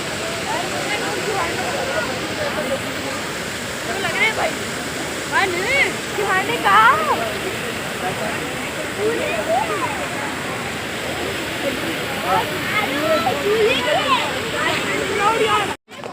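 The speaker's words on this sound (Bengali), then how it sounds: "জাস্ট ঢুকেই দেখো এরকম একটা ঝর্ণা মতো কিন্তু রয়েছে" Water pours steadily in a waterfall inside Robert's Cave in Dehradun, a broad continuous rush heard close, with a voice talking over it.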